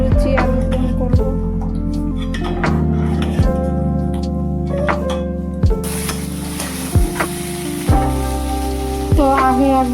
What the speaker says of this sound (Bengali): তো আগে এক ব্যাচ আলু ভাজা হয়ে গেছে, আবার একটু ভাজা চাপালাম